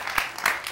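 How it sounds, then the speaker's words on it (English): A game-show studio audience claps for a contestant couple in a short, dense burst of applause that carries steadily and fairly loud through the brief moment. "You can clap for Sarah and Derek"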